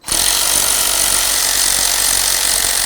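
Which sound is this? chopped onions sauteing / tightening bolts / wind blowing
tightening bolts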